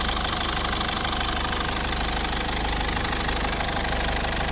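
A 2000 Mercedes Vito W638 2.2 CDI diesel van engine idles steadily with a continuous, even clatter and hum, loud and close, with no voices.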